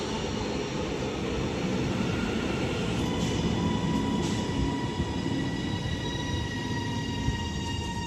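Northern class 331 electric passenger train, three carriages, departing Rainhill station with a steady, loud rumble of motors and wheels, high whining tones, and occasional brief knocks, continuous throughout.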